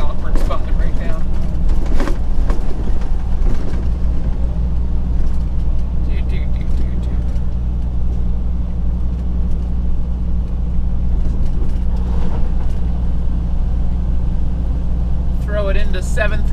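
A bus or similar road vehicle drives steadily through town, its low engine rumble and road noise constant and close throughout, with faint clicks and mechanical sounds suggesting a gear change.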